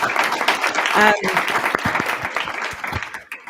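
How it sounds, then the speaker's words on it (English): Crowd clapping fills the space at a school board meeting, dense and sustained, with voices and a cheer mixed in over the applause. "So I just want to give a round of applause"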